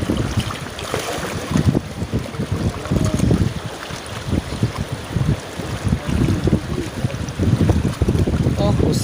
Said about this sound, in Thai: มีลมพัดมาก